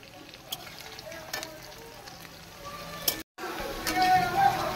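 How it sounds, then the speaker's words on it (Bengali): Onions fry in oil, a soft continuous sizzle with sporadic clatter from stirring, close by, with a voice talking at times over the cooking. "পেঁয়াজটা এখন আমি খুব সুন্দর করে লাল করে ভেজে নেব।"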